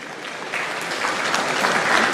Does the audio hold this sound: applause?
yes